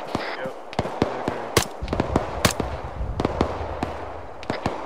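Gunfire in a military simulation video game during a special forces operation: a string of sharp single shots, some near and loud, others fainter and more distant, spaced irregularly while people talk over radio chatter.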